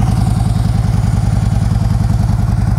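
A Harley-Davidson Road Glide Custom FLTRX motorcycle engine runs steadily at idle, a loud, close, deep rhythmic V-twin thump that continues evenly throughout.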